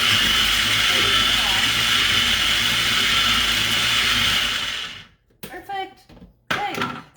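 A food processor pulses parsley into a lasagna filling, giving a loud, steady whirring roar for about five seconds that cuts off abruptly, followed by brief clattering handling sounds.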